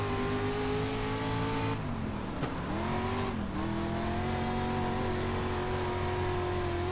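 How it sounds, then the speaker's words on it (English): Race car engine on the dirt track at Knoxville Raceway, a loud, steady high-revving drone with two sharp dips near the middle as the driver lifts off the throttle and gets back on it, the pitch sliding down and climbing again. "Listen to that throttle rhythm too. You can just hear how hard he's getting on and off it"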